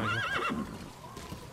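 A horse in Metal Gear Solid V gives a short, loud whinny with a wavering pitch, followed by a brief soft tail of game ambience.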